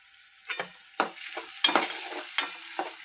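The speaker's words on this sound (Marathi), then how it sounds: "हे बघा तुम्ही बघू शकता कसा कांदा फ्राय करायचा" Onion frying in a pan and being stirred with a spoon: quiet sizzling underneath a few distinct scraping strokes, close up and without voices.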